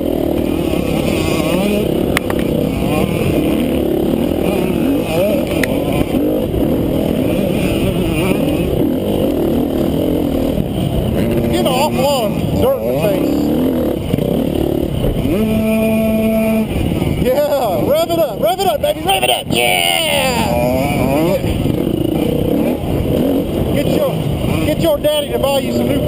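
A motor revved hard at a rock-themed event, a loud, continuous engine roar that swells and rises in pitch with sharp tonal sweeps, while people talk over it throughout.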